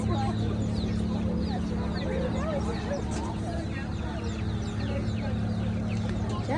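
Chickens cluck steadily through a busy, noisy Saturday-morning farm store sales event, with low steady hum and voices talking in the background.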